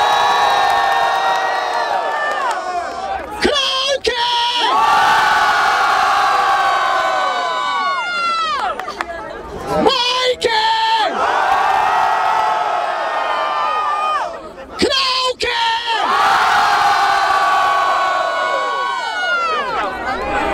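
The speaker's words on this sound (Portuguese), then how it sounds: "Barulho para as rimas do Mike!" A crowd at the grand final of a Brazilian freestyle rap battle cheers loudly, with whoops, whistles and shouts in long, sustained waves that briefly dip and surge again.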